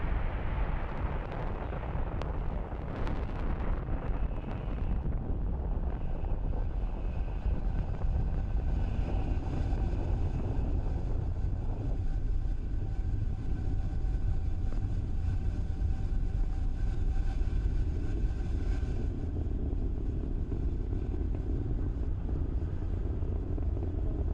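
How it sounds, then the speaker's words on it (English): A SpaceX Falcon 9 rocket launches with BlueWalker 3 and Starlink satellites, a continuous heavy roaring rumble with buffeting crackle that stays loud and steady throughout, slightly rougher at the start. "What you are seeing on your screen is Falcon 9 accelerating AST SpaceMobile's BlueWalker 3 and our Starlink satellites into space."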